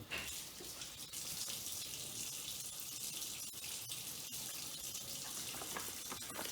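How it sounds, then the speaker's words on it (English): Hot water runs from a kitchen tap in a steady, soft hiss, heard alone at low level. "I'm just going to turn my tap on to get the water nice and hot."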